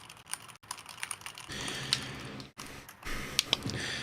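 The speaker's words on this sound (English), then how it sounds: "Would you believe me if I told you that those are blue switches?" Typing on a mechanical keyboard fitted with blue clicky switches, close up: bursts of crisp, rapid keystrokes with brief pauses between runs, with no voices.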